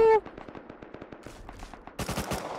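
Machine gun fire in a video game, rapid close bursts of shots that start after a brief tone and grow louder and denser toward the end, with a little speech around them.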